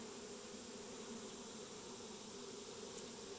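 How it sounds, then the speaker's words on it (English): Honey bees buzzing steadily at a beehive being smoked during hive equalizing, a dense continuous hum filling the whole span with no talk. "can hear the bees when you smoke them."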